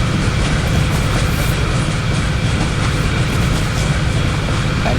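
A train in a railway driving video game rolls steadily along the track, a loud continuous rumble with faint clickety-clack throughout and no pauses.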